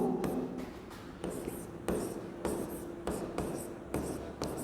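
Marker or chalk strokes on a classroom board during a physics lesson, a run of short scraping bursts in steady rhythm, close and moderately loud, with a soft voice murmuring faintly underneath.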